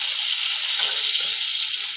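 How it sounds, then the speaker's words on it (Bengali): Fenugreek seeds tempering in hot oil give a loud, steady hiss of sizzling that stays even and close throughout, with no voices. "মেথি ফোড়ন দেবে, খুব ভালো গন্ধ"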